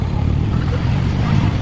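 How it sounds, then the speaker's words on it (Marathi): Heavy road traffic in Mumbai rumbles nearby, a dense low engine drone of cars and motorbikes that holds loud and constant for a short stretch. "खूप जास्त ट्रॅफिक आहे इथं."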